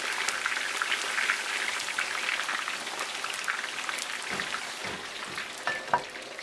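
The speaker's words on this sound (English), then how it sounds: "sometimes it sizzles like this quite a bit" Loud, crackling sizzle of fries frying in hot oil in a cast iron pan, dense and continuous, with scattered pops and a few clinks near the end.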